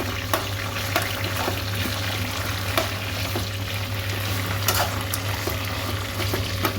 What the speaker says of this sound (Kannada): ನೋಡಿ, ಮೆಣಸಿನ್ಕಾಯಿ ಹಾಕ್ತಾಯಿದ್ದೀನಿ. ಮೆಣಸಿನ್ಕಾಯಿ ಒಂಚೂರು ಈ ಥರ ಮೇಲೆ ಕೆಳಗೆ ಮಾಡಿ